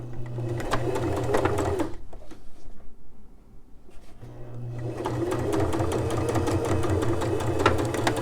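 A sewing machine stitches the waist of a pair of pants, running in a steady close whir, stopping for a couple of seconds, then starting up again.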